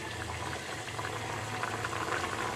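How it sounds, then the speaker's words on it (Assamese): Potatoes boil in a pot, a quiet, steady bubbling and gurgling of water that continues evenly throughout with no one speaking. "আলু সিজিছে"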